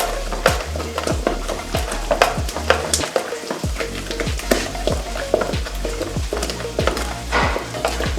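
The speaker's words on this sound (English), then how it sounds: "See that I'm using a wooden ladle to mix." A wooden ladle stirs a thick Bambara nut flour mixture for okpa in a pot, giving repeated scraping, knocking strokes in a steady rhythm, close and clear with no talking.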